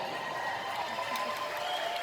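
A Star Trek convention audience applauds steadily, a dense, moderately loud patter of clapping from a large crowd with faint cheering mixed in.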